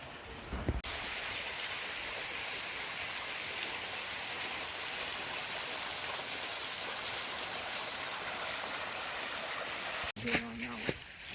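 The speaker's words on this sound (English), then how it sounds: "There's a waterfall down below." Steady, full-band rush of a waterfall and flowing stream below a sandy cave trail, loud and continuous for about ten seconds, then a brief burst of nearby movement and handling noise at the end.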